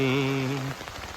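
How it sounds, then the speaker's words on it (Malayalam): Steady rain hissing throughout, with a brief humming tone over it in the first moment before it fades to just the rain. "മഴകൾ"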